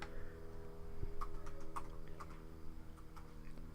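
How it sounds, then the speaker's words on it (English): Typing on a computer keyboard during a podcast recording, soft scattered key clicks at an uneven pace over a low steady hum, with no talking. "I'm typing it in for the podcast listeners"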